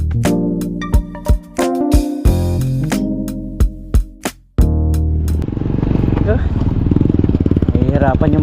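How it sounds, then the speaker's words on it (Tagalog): Motorcycles hauling heavy loads of bamboo labor loudly, with engines droning and chugging under strain, punctuated by sharp clunks and clatter before a steady rough roar takes over. "Nahihirapan yung mga motor dahil sa mabigat talaga yung kawayan."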